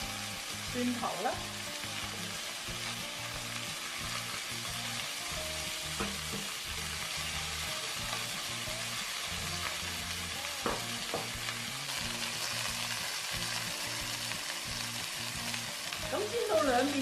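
Chicken drumettes fry in a little oil with ginger and garlic, a steady close sizzle that runs throughout, broken by occasional utensil scrapes and knocks.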